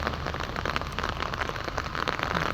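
Heavy monsoon rain pours in Hyderabad, a dense continuous hiss of drops pounding surfaces, loud and close with no letup.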